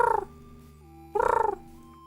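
A person imitates a pigeon call twice, delivering two short bursts of gobbling, cooing warbles separated by a pause, with game sounds faintly humming underneath.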